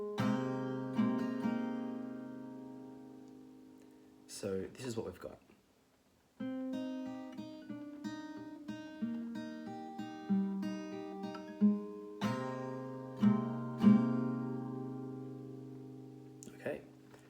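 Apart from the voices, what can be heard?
guitar gently strummed, intro of a song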